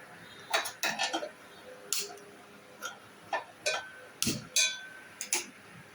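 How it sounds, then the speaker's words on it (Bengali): A metal kadai is set down on a gas stove in a home kitchen, giving a scatter of sharp clanks and taps at irregular intervals, close by and fairly quiet. "কড়াই বসিয়ে দিয়েছি আমি।"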